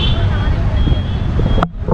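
Busy traffic at a bus station in Sri Lanka, engine rumble and a high tonal beep running under a person talking, ending abruptly in a sharp cut.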